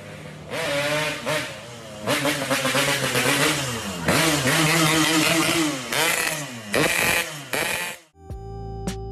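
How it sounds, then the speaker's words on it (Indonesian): A two-stroke motorcycle engine revs hard and loud in rising, crackling bursts, with brief drops between pulls, then cuts off abruptly near the end. "Coba kita bandingkan sama suara motor 2 tak lainnya."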